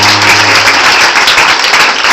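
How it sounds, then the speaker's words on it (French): A church congregation with children present breaks into loud, dense applause, a continuous close roar of clapping with a brief tonal note at the start. "Vous pouvez applaudir Jésus-Christ."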